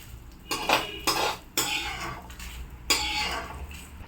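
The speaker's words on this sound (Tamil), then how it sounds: "காஞ்ச மிளகாவும் உளுத்தம் பருப்பையும் இப்போ வறுத்து எடுத்தாச்சு" Metal spoon scraping and clinking in a pan while roasted urad dal and dried red chillies are stirred for bitter gourd chutney, a few close, bright scrapes in quick bursts.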